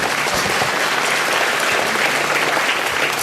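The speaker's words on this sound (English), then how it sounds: "Can I have a round of applause for my volunteer?" An audience at a talk on the Enigma machine applauds a volunteer, a dense, steady wash of clapping that fills the room without pause for a few seconds.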